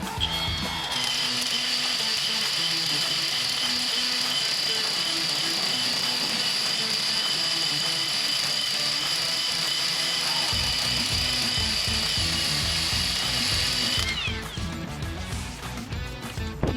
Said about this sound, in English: we're gonna come in with our Milwaukee tool with the ERCONE already installed